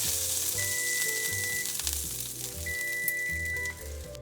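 A bavette steak fries in a hot pan, making a loud, continuous, close sizzle with crackling spatters and a few faint background tones.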